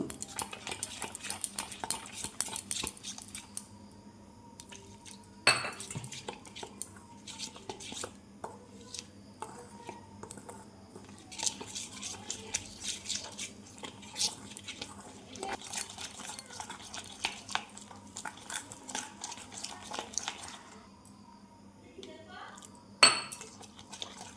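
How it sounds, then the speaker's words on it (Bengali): A spoon mixes curry-leaf batter with coriander and cumin powder and a little water in a bowl, giving bursts of quiet scraping and clinking at close range, with a few louder knocks and short pauses between. "এটা এখন মিক্স করে নিব অল্প অল্প জল দিয়ে এটা আমি একটা ব্যাটার বানিয়ে নিব"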